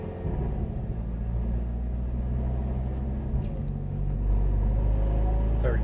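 A turbocharged Hyundai Elantra N accelerating in manual mode, its engine a steady low rumble that swells louder toward the end with a rising whine, heard from inside the car.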